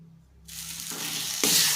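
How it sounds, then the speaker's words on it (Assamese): Food hits hot oil and sizzles loudly while frying jackfruit-flower curry, the frying hiss swelling into a steady crackle up close. "এয়া মই ভাজি আছোঁ"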